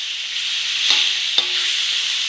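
Chicken pieces stir-fried in a hot pan for a Thai spicy chicken stir-fry with Thai eggplant, giving a steady close sizzle with two short clanks of stirring.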